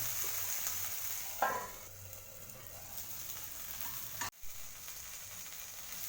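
Chili peppers and okra cooking in an iron pan with lemon juice, a soft continuous sizzle broken by a short scraping stir and a sharp knock, heard without voices.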